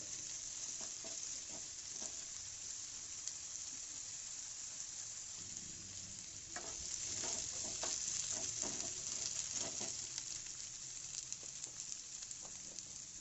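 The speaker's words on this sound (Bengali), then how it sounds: "এরপর কেটে রাখা আলু দিয়ে দিলাম একটু ভেজে নেব আলুগুলো" Cut potatoes fry in a pan for a spiced carrot, pea and potato dry sabji, a continuous hissing sizzle with occasional stirring taps, steady and fairly faint with no voices.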